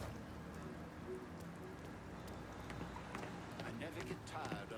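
Steady rainfall in the video game Mafia 3, a soft continuous hiss of drops on pavement in a downtown construction area, low and even, with faint voices and game sounds beneath.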